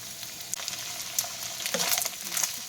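Ground beef and potato sizzling in a pan for shepherd's pie, a soft steady fry with a few scrapes and stirs of a utensil.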